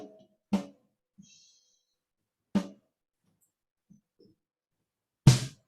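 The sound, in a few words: snare drum recorded with top microphone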